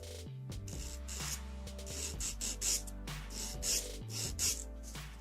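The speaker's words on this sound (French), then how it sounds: "On prend le petit buffer doux." A soft nail buffer is rubbed back and forth over acrylic resin nails during removal, producing quiet, close, rhythmic scratchy strokes in quick succession.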